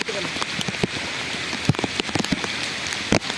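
Rain falls steadily on a surface outdoors in Davao Oriental, a dense patter with scattered sharper drops and faint talk mixed in.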